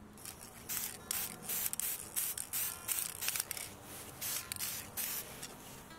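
A can of spray paint hisses in a rapid series of short and longer bursts, close and crisp, as a second coat goes onto glassware for a mercury-glass effect; no talking.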